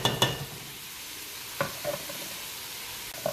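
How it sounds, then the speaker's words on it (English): Short scraping stirs and a light sizzle from chicken pieces frying in a pot, a few distinct clacks spread across a quiet background hiss. "I will give it a stir and then go for one more minute."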